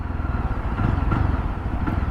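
Yezdi Roadster motorcycle engine running while being ridden, a steady low throbbing drone held close and fairly loud throughout, with no talking.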